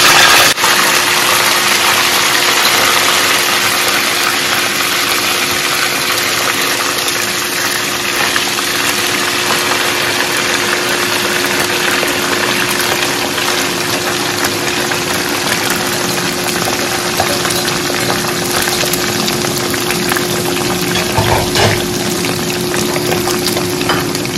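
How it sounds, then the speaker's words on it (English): Beef frying in hot oil for Zongo waakye stew, a steady loud hiss and sputter that holds evenly throughout with no talking. "go ahead and first fry our beef"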